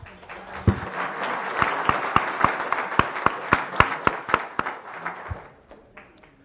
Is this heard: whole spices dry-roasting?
no